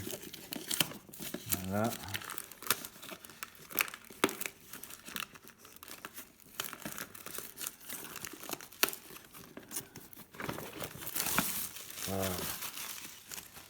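Pokémon Elite Trainer Box packaging and booster packs being opened, with close crinkling and tearing of plastic and foil in bursts while a voice speaks briefly.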